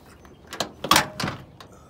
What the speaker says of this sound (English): Let's go to this side here and I'll open up the door.